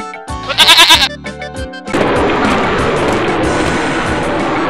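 A goat bleats in a few wavering, nasal cries, loud and close, against a background of music.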